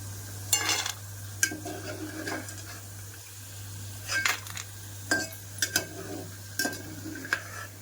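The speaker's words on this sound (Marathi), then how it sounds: "याचा असं खनखन आवाज यायला लागले म्हणजे आता हे आपल्या कोई छान तळलेल्या आहेत" Mango seed kernels fry in oil for mango pickle, with scattered hard clinks and rattles against the pan over a low frying hiss and a steady background hum, close and without speech.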